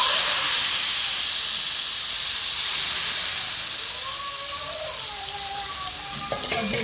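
Steady hiss and sizzle of hot tempering oil poured into kadhi curry, loud at first and easing slightly, with faint stirring clinks near the end.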